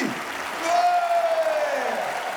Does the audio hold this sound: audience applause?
yes